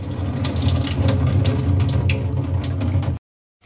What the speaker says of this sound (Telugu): ఇప్పుడు ఈ వాటర్ని అంతా వంపేసి ఓన్లీ రైస్ని మాత్రమే అందులో వేయాలి